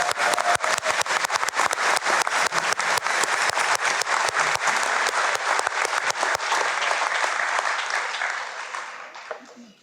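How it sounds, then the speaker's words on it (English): Applause from a commencement crowd at Skagit Valley College's Mount Vernon campus, many hands clapping with sharp individual claps standing out, holding steady before tapering off near the end. "One more round of applause"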